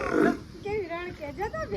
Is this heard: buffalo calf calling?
yes